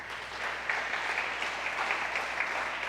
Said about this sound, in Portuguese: Então dá um aplauso a ele por isso.